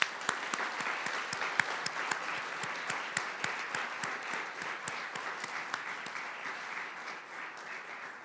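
An audience applauds award recipients at an aspirations award ceremony: many hands clapping in a steady, even patter with distinct individual claps standing out, continuous for several seconds at moderate distance.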